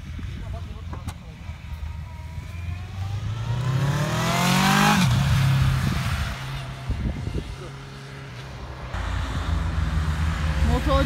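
A motorcycle overtakes on a winding mountain pass road with hairpin bends, its engine revving up in a rising whine that peaks and then drops away, heard over the steady drone of a car interior with some talk.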